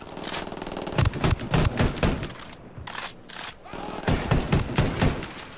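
Bursts of automatic gunfire in the video game Ghost Recon Wildlands, loud rapid volleys separated by brief pauses, close and dominating with game sounds between.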